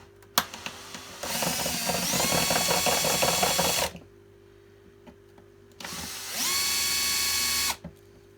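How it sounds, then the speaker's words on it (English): A power drill works at stripped screws in a Goblin Electra, two loud close bursts with a rising whine and grinding ratchet-like chatter, the first about three seconds long and the second shorter after a pause. "I'm going to drill out these screws"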